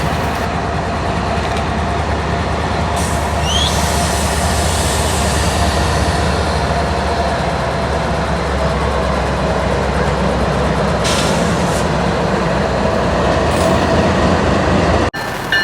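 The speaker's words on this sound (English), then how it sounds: "the power for CSX Q009 leaves the Worcester yard to head down to switch down near Charlton" CSX freight locomotives pull out of the Worcester rail yard with a sustained loud diesel rumble and rolling wheel noise, steady and close throughout, ending abruptly.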